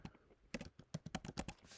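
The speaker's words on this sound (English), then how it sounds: "I'm just gonna type in the first one." Quiet keys clatter on a computer keyboard in a short, uneven burst of taps, close and faint, with no speech.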